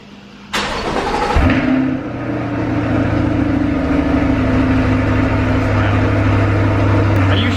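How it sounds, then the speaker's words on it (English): A mid-engine 2020 Chevrolet Corvette C8 cold-starts with a sharp crank and loud bark, then settles into a steady, droning high idle that holds close and strong to the end. "I think let's get a cold start this morning"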